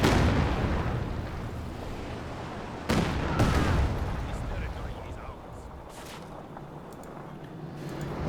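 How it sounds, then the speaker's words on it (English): A Katyusha rocket barrage in Company of Heroes 2 lands as a pair of sharp booming blasts near the middle, set in a dense, continuous roar of battle noise. "And here comes a Katyusha barrage."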